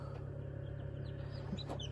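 Faint, high chirping peeps from newly hatching Ross 708 broiler chicks over a steady low hum, with a few brief calls scattered through the clip.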